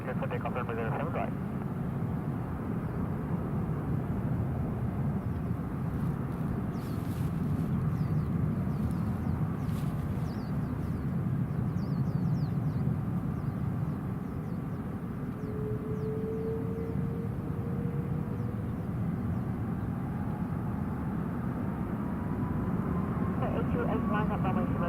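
An airplane takes off from runway 07 right at Hong Kong airport, a steady broad roar holding throughout with a faint rising engine tone partway through, under radio voices.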